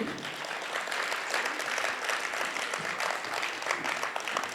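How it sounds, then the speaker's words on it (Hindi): At an evening poetry gathering during a Dussehra fair in Kapasan, the audience claps in a dense, lively burst of many hands, fairly loud and continuous throughout, with faint voices mixed in. "ताली बजाओ, ऐसे मत बैठो"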